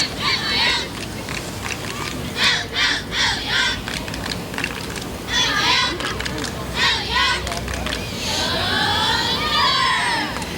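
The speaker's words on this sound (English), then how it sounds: "And they are giving us a cheer here." A small group of girl cheerleaders in a 1990 Cupertino street parade chants and shouts cheers in bursts, high-pitched and energetic, with crowd noise around them outdoors.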